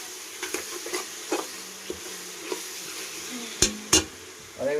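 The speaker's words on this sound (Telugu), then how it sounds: "సో అది దీన్ని బాగా వేయించాలి." Chili powder and rice frying in a pan for chicken curry give a soft, steady sizzle, with a spoon stirring and scraping in scattered knocks and two sharper clanks near the end.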